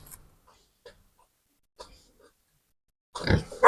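Pigs kept for breeding as sows, penned outdoors at a new farm shed, give a short burst of close grunting near the end after mostly quiet moments with a few faint sounds.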